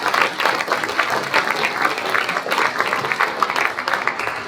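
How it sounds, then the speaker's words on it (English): A conference audience at a discussion on affordable, reliable and low-carbon power breaks into sustained applause, loud, close and evenly textured many-handed clapping that runs without pause and without speech over it. "So if we can give a round of applause to Adrian."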